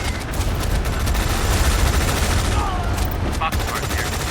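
Units opening fire in Tom Clancy's EndWar: rapid machine-gun bursts and a dense fusillade of shots, loud and continuous, with faint radio-like chatter in the mix.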